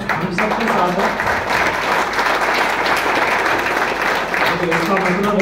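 Audience applause at a marketing plan seminar in Bhayander West, a dense steady wash of clapping from a crowd that fills the room and holds at an even, loud level from start to finish.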